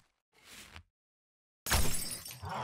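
Glass pane shattering in the video game 7 Days to Die, a short faint scrape followed after a pause by a loud, bright crash that rings out for about a second.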